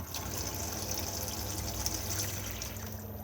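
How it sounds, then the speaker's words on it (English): The water pump in an Autocruise Rhythm motorhome runs with a steady, quiet, continuous whirr and hum, mixed with a faint watery rush and no talking. "To turn the water pump on, just press here."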